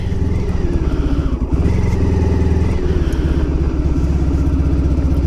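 A 1994 Honda ST1100 motorcycle engine runs steadily up close, a continuous low rumble with a slight dip partway through, with no one talking.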